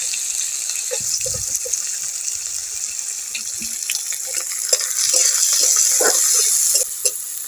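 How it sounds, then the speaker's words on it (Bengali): Onion frying in a pan in a Bengali home kitchen, a steady bright sizzle running throughout with scattered clinks and scrapes of stirring, the hiss swelling louder toward the end; no talk. "এই পেঁয়াজটা আমি ভেজে নেব।"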